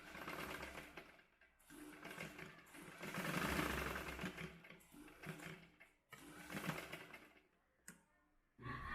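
Sewing machine stitching knife pleats in fabric, a steady close mechanical whirr with rapid needle ticking that runs in several bursts, pausing briefly between them.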